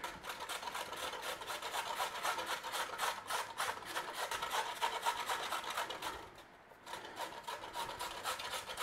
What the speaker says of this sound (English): We want to be grating a carrot in there.